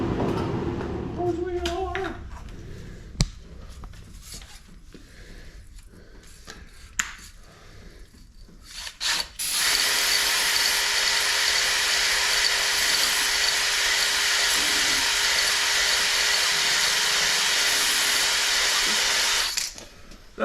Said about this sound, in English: I'm gonna show you how I hone out a cylinder